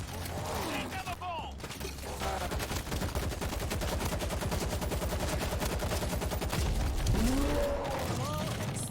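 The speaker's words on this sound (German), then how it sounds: "Irgendeiner hat gerade sehr exzessiv seine Schrotflinte gespielt" Shotgun fire rattles through a World War Z co-op match, dense repeated blasts over a continuous roar of in-game action, with voices and game noise mixed in.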